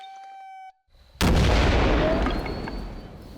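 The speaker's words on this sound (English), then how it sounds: "It also creates a violent explosion." A gunpowder-filled test bomb detonates in one sudden, loud blast that floods every band, then a long roaring rumble slowly fades; a few steady electronic beeps come just before the bang.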